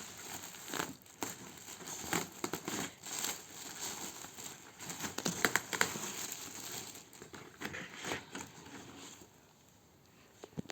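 Wristwatch packaging being opened up close, with crinkling plastic and rustling paper in uneven bursts, fairly loud and near, then quieter toward the end.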